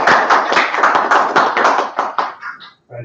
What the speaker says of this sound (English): If I could have a round of applause for our speakers